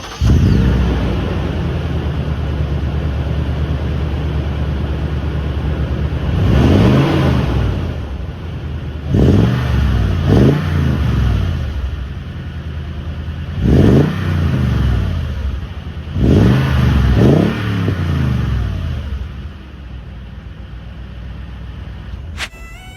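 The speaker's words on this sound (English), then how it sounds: "What about we hear what the TRD exhaust sounds like, coupled together with that beautiful TRD intake?" A 2021 Toyota Tundra TRD pickup fitted with a TRD exhaust and an OEM TRD intake idles with a deep rumble, then revs sharply in a series of five or six quick throttle blips, loud and close, with no talk.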